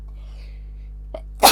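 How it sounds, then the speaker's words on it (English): After a quiet pause and a short intake of breath, a single sharp human sneeze bursts out close to the microphone at the very end. "I'm gonna sneeze."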